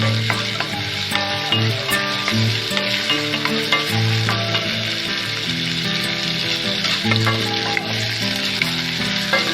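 Ginger-garlic paste sizzles steadily in hot oil in a home kitchen pan while ghugni is being made, with a constant close frying hiss, light stirring scrapes and a background hum, and no talking.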